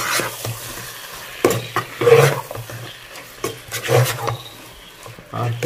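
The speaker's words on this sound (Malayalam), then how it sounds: "എന്നിട്ട് ഇതൊന്ന് എണ്ണ പൊങ്ങി വരുന്ന വരെ മിക്സ് ചെയ്തുകൊണ്ടിരിക്കും." Spoon stirring masala in sizzling oil in a pan for beef kabsa rice, with intermittent scraping strokes and bursts of frying hiss, close and alone.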